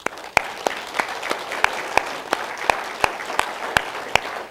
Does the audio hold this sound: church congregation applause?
yes